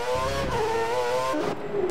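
A simulated race car engine in a Roblox racing game, pitting during a Chinese Grand Prix round, drones steadily up close with a whining, slightly wavering pitch and a brief dip near the end.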